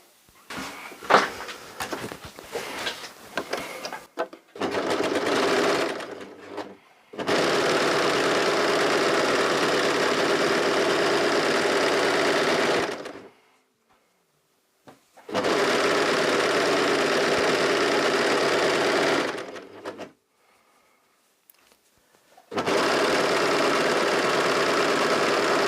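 A Pfaff Admire Air 7000 sewing machine running its overlock function, giving a steady mechanical whir in several long bursts with short pauses between them and some handling clatter at the start.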